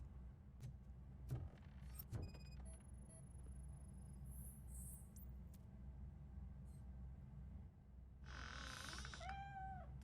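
Cat meowing inside the video game RoboCop: Rogue City, a short run of high, wavering mewls near the end over a steady low game ambience, with brief clicks and tones earlier.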